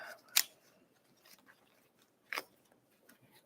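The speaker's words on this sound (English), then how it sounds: "Shuffle these suckers." A few soft, papery riffles and snaps of tarot cards being shuffled, two distinct bursts with quiet gaps between, close and fairly faint.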